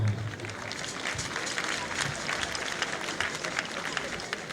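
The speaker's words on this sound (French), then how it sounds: "Nous vous prions de les acclamer très fort." A festival crowd at the Ovazu fonio celebration of the Akposso and Akebo peoples in Amou, Togo, applauds guests with dense, sustained clapping and cheering that stays loud throughout.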